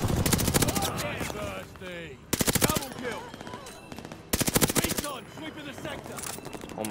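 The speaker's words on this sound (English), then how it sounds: "That's like a long range gunfight right there" Bursts of automatic gunfire in Call of Duty Vanguard multiplayer, loud rapid volleys alternating with quieter stretches of distant shots and in-game voices.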